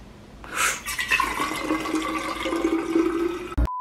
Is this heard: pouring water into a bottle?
yes